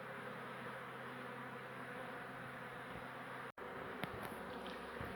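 Honeybees humming around a beehive being relocated from a bathroom on a hot day, a continuous close drone with a brief dropout partway through and faint knocks over the hum.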